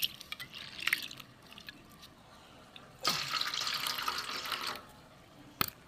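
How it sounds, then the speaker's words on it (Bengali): Red lentils are rinsed under a running tap in a home kitchen, with a brief splash, then a steady rush of water for a couple of seconds, close by, ending with drips. "মুসুর ডালটা ধুয়ে দিই।"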